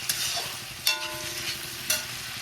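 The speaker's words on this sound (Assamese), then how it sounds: "এইখিনি অকণমান সময় ভাজিম, অকণমান মানে 7-8 মিনিটমান সময় ভাজিম" Chopped onions sizzle steadily in a pan over a constant close hiss, with three sharp stirring scrapes at intervals and no talk.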